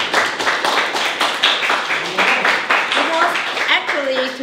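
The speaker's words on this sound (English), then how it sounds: "Let's give our officer a round of applause." A meeting audience applauds, giving a dense, continuous patter of many hands clapping at close range, with voices talking and calling out over it.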